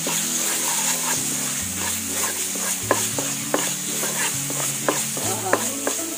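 Milk sweet mixture with sugar and coconut being stirred in a pan, with repeated scraping strokes and clicks over a steady soft sizzle, close and moderately loud, no voices.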